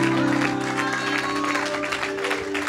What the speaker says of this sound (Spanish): yo sé que usted puede aplaudirle como por 18 segundos, mejor que eso